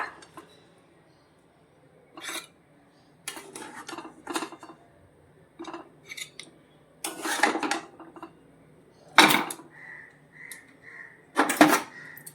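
A ladle scrapes and clinks against a metal pot as pomfret fish curry is served outdoors in a courtyard, in scattered bursts of clattering with quiet gaps, some sharp metallic knocks near the end.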